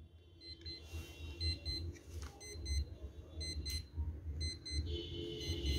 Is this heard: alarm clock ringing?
yes